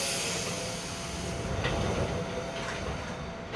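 A Jakarta Commuter Line train runs steadily, with a loud broadband rumble and occasional faint clicks from the rails throughout.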